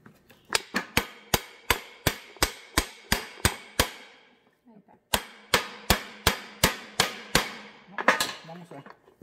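Hammer blows on a driveshaft U-joint of a 2003 Toyota Tundra during replacement, two rapid series of about ten sharp metallic strikes each, close and loud, separated by a short pause, with a brief cluster at the end.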